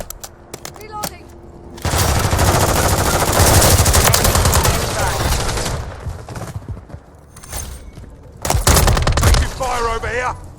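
Bursts of automatic gunfire and sharp cracks in multiplayer Call of Duty Modern Warfare III, with loud sustained firing and short pauses between volleys, plus brief game voice chatter.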